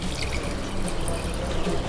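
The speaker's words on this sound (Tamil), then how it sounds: "ஸோ நான் 5 கப் அளவு தண்ணி விடுறேன்." Water being poured into a cooking pot of rice and lentils (dal) for a simple home lunch, a steady close pouring and trickling wash lasting throughout without any talking.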